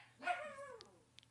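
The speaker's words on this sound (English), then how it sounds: "Damn dog, get back in the bag." A single dog bark, fairly faint, sounds over low background hum, followed by a couple of tiny clicks.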